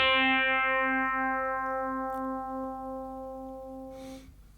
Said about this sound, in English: we basically use that same approach for this electric piano patch